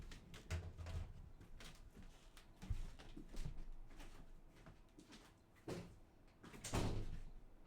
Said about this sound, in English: Let me close my door real quick, chat.